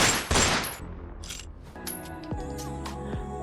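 Two sharp gunshots ring out one after another, each with a loud crack and a long echoing decay, heard alone with no talking.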